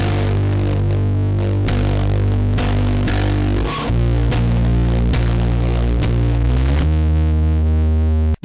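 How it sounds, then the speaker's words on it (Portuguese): A heavily fuzz-distorted guitar or bass tone plays in thick, buzzing, saturated sustained chords that change every second or so, loud and dense throughout, with no voices. "O fuzz é um tipo específico de distorção que cria um som altamente distorcido e borrado."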